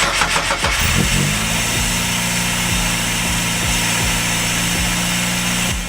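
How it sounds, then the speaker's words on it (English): Car engine cranking and firing up, then settling into a steady idle with the idle air control valve unplugged and the diagnostic ALDL plug removed. Loud, close and continuous, with a low rhythmic pulse. "You can now start the car with the IAC disconnected and the ALDL plug removed"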